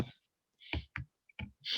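A computer mouse double-clicked during a PowerPoint presentation, a few sharp close clicks separated by short silences.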